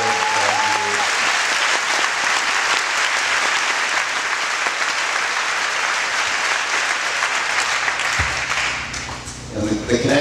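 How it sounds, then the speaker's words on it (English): An audience at an evening gathering gives volunteers a long, loud round of applause that keeps up steadily and thins out toward the end. "I think they deserve a round of applause"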